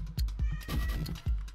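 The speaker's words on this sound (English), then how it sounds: "Cat." A cat meowing in the N++ video game, three or four loud, close, drawn-out meows in quick succession, each rising and falling in pitch, with no talking.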